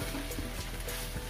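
Vallarai keerai greens being fried lightly in a pan give a brief, constant sizzle with faint stirring.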